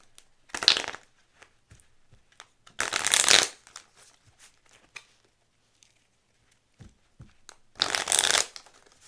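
Goddess oracle cards being shuffled in three quick, crisp riffling bursts separated by near silence and small taps, recorded close.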